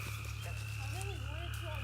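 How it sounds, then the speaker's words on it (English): Frogs croak in the woods at night, a chorus of rising and falling calls over a constant insect drone and low hum, moderately near, with faint sounds of people nearby. "Hear those frogs, though?"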